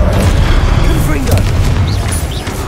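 Confringo fire spell blasts in Hogwarts Legacy, a loud rumbling boom with crackling bursts that fill the whole moment, a voice calling out spell names over the action.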